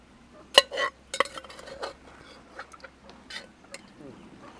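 Clinks and scrapes of a metal spoon against a pot as cooked beef is scooped and transferred into a dish, a few sharp taps followed by softer shuffling.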